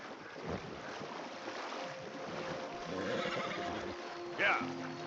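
A horse in the video game Red Dead Redemption 2 whinnies over wind and flowing water at a riverbank, with a sharp neigh near the end.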